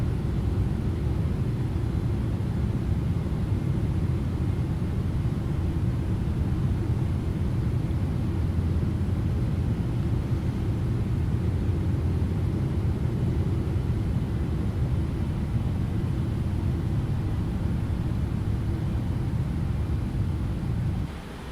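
Cockpit ambience of a FlightFactor Boeing 777-200ER in the X-Plane 12 flight simulator, flying Dubai to Riyadh: a steady, loud low engine rumble and air noise, unbroken for the whole stretch.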